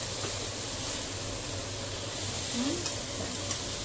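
Fenugreek leaf bhaji frying in a pan gives a steady, close hiss of sizzling oil that runs evenly throughout with no other sounds over it.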